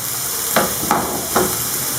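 Finely chopped onion sizzles in a frying pan with a soft steady hiss, broken by three quick bursts of louder crackle, roughly evenly spaced, as it is stirred.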